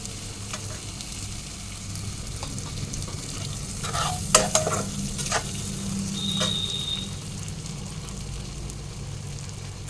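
A spoonful of ghee goes into a cooking dish, a low steady sizzle with a cluster of sharp clinks and scrapes midway as it is stirred in.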